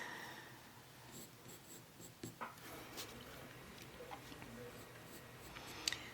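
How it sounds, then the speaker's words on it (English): A sharp burnt ochre colour pencil scratches across paper in soft, close strokes that build texture, with occasional firmer ticks of the tip. "So really sharp burnt ochre pencil."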